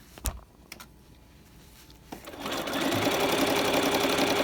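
Sewing machine stitching a welt pocket seam, the foot riding along the cut edge of the seam allowance; after a few quiet clicks, a steady close whirring run starts about two seconds in and continues loud to the end.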